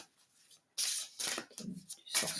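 Tarot cards being shuffled and drawn, several short papery riffling bursts close to the ear with brief pauses between them, no voices.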